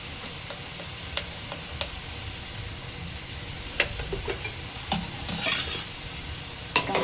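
Salt is stirred into a simmering pot of Maharashtrian kevla amti cooked with okra: sparse spoon scrapes and light clicks stand out over a soft, steady bubbling background, with no talking.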